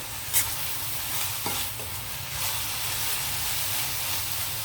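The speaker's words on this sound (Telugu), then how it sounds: "ఆనియన్ కొంచెం వేగితే బాగుంటుంది. ఆయిల్లో మగ్గనిద్దాం." Onions frying in oil in a pan, a dense, even hiss of sizzling with a few light spoon scrapes early on, close and steady throughout.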